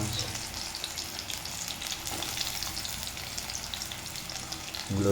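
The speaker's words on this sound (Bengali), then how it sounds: "দিয়ে ভালো করে লাল করে ভেজে করে নেবো" Onions frying in very hot oil in a home kitchen for a meat dish, a steady loud sizzle that runs the whole time with a brief stir near the end and no talking.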